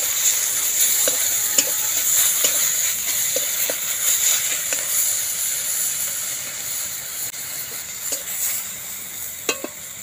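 Brinjal with spices sizzles steadily in a frying pan, a constant bright hiss broken by occasional scrapes and clicks of a spoon stirring, with no talking.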